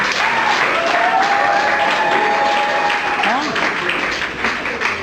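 Guests at a wedding ceremony break into loud, sustained applause after the vows, dense clapping close by that fades slightly at the end, with voices and cheers mixed in.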